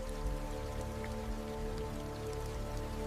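Heavy rain falling in a forest, a dense, steady patter on leaves and surfaces heard close and continuous with no voices.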